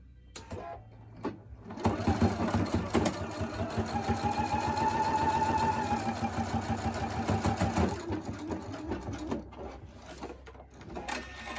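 A sewing machine stitches across a seam on a simple fabric face mask, a steady rapid mechanical whir running close and loud for most of the span, with brief stops and starts at either end.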